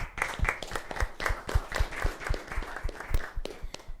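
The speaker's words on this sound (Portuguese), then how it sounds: "os aplausos para os nossos amados" A live church gathering breaks into rhythmic applause, many hands clapping together in a steady beat, loud and close and continuing for several seconds.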